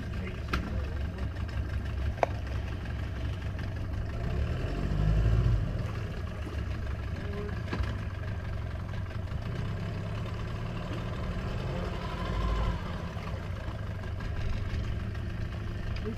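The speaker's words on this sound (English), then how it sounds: "Good running little motor." Small manual-start outboard motor on a sailboat running in gear, a steady close low engine drone that swells briefly twice, with a voice speaking faintly underneath.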